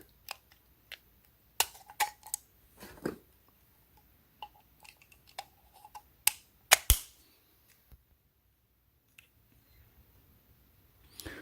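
Sharp plastic clicks and snaps as a power adapter slides into place on a Novation Launchpad, scattered and irregular, close up in an otherwise quiet room.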